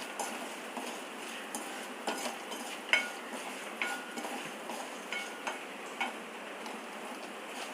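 Black peppercorns and fenugreek seeds dry-roasting in a pan, heard as a faint steady hiss with light, regular ticking clicks of seeds and the stirring utensil, close, with no talk.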